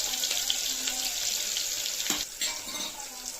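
Garlic cloves and onion fry steadily in a hot pan for a tempering for thota aku pappu, a greens-and-lentil dal. A loud, continuous crackling sizzle fills the clip, with a brief clatter of stirring partway through and no voices.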